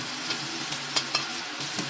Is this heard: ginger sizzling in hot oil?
yes